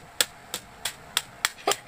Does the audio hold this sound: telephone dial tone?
no